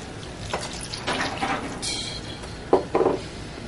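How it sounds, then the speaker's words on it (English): Three glasses of warm water are poured into a cooking pot of spiced meat curry, with several short splashing pours and a clink of glass on metal close by, without talk. "Now we're gonna add water."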